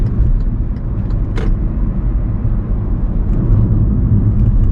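Car accelerating through a lane change during a driving lesson on a road from Siheung Eungye district to Sindorim station, with a steady, loud engine and road rumble heard from inside the cabin and no talk.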